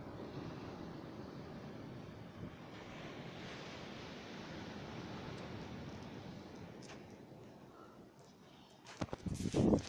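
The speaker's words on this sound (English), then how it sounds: "I don't know if you guys can hear the water, but it's kind of loud today." Loud surf washing steadily near the shore, a constant broadband rush with gusts of wind buffeting the microphone, ending in a few sharp handling bumps.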